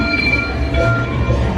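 A Runaway Railway theme park ride train rolls along its track at Hollywood Studios, giving a continuous loud rumble with high whining wheel tones, heard up close from on board.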